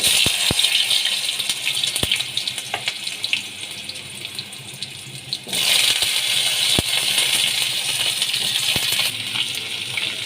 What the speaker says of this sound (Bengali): এবার কচুগুলো আমি দিয়ে দিচ্ছি ভেজে নিচ্ছি